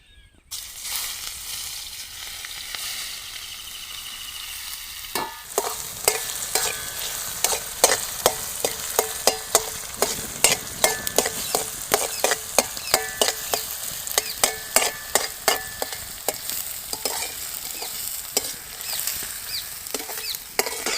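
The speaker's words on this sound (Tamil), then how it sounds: "சிறுக கட் பண்ணி வச்சுக்கிற வெங்காயம் போட்டுக்கலாம்." Chopped onions frying in cooking oil in a village kitchen, a dense close crackling sizzle with rapid popping spatters and repeated stirring scrapes throughout.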